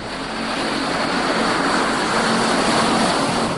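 Steady, loud roar of a military transport airplane that has just landed at Gao, Mali, engines running continuously throughout without pause, with no talk over it.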